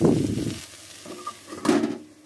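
Bottle gourd peels fry in a wok with a close, crackling sizzle that swells in bursts as the pieces are stirred, easing briefly in between.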